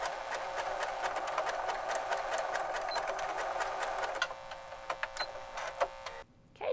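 A sewing machine runs steadily, stitching sweater knit for a cardigan, with a dense mechanical whir and rapid needle clatter that breaks into short bursts near the end before stopping.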